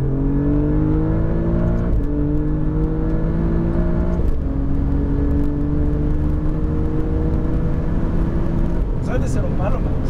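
Alfa Romeo Giulia GTA engine on a race track, loud and close, revving through rising gear pulls with shifts between them, a steady whir underneath and a short burst of higher-pitched noise near the end.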